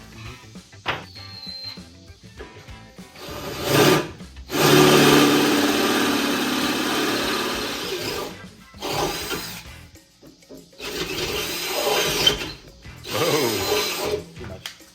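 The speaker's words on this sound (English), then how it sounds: "Drill the hole out just a little bit" A power drill whirs in several bursts, one long sustained run in the middle and shorter runs after, with pauses and small handling noises between.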